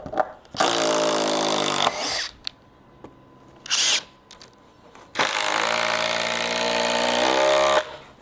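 A power driver backs a screw out of a wooden stair riser in two long, loud whirring runs, separated by short bursts and brief clicks of handling.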